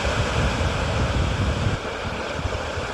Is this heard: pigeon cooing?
no